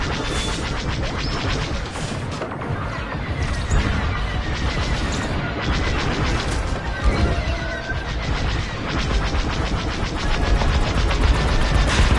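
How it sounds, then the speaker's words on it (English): Starfighter laser cannons and explosions in the space-combat game Star Wars: Squadrons, dense rapid bursts and crashes running continuously at high volume. "I'm taking fire. I've lost my shields."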